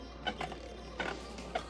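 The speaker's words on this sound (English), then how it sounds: "You can hear the jagged edge of the bit as it hits like the center part of the stadium." A Beyblade Saber Samurai 2-70L spinning in a stadium, its jagged bit clicking against the centre in a few small, quick ticks, faint over a low background hum.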